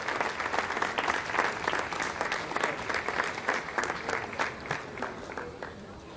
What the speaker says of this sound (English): Lots of applause here in the Jupiter Control Centre.